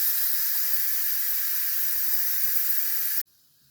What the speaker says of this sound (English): Okay, all the steam has almost been released.